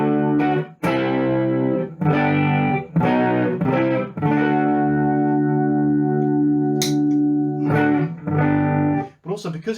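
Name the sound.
guitar through Twinote BBD analog chorus pedal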